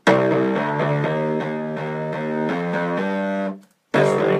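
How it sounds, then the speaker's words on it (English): Heavily overdriven, distorted bass playing a chugging run of sustained notes, cutting out briefly near the end before kicking back in. "distorted way over the top with an overdrive"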